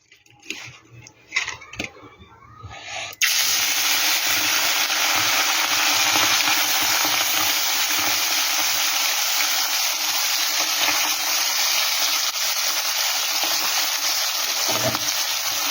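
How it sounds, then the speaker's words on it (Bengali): Morla fish dropped into hot oil in a wok for a home-style fish jhal, setting off a loud, sustained, even sizzle after a few quiet seconds of handling clatter. "এবার মাছগুলো আমি ভেজে নেব"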